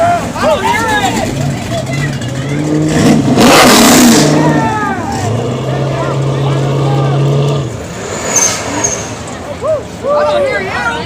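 A classic car at a street cruise in Grand Rapids revs loudly and close, the engine climbing and falling in several bursts while a crowd shouts and talks around it.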